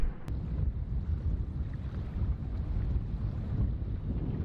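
Steady wind rushing and buffeting close by on a sailboat in the Coral Sea, with low rumbling gusts and faint water noise, no voices.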